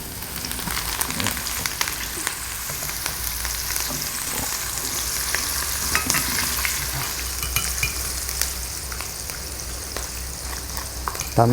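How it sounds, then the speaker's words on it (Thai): Pork coated in tapioca starch deep frying in hot oil, a dense, continuous crackling sizzle that stays loud and close throughout, with faint stirring underneath. "แป้งมันครับแล้วก็ลงทอดนะครั บลงทอดได้เลยนะคะ"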